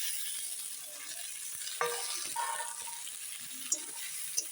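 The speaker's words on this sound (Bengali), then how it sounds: "ভালো করে এখন তেলের মধ্যে কষিয়ে নিই" Peas and potatoes frying in oil, a quiet sizzle with a few scraping stirs and occasional light clinks of a utensil, close but faint.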